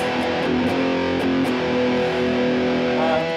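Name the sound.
electric guitar with heavy distortion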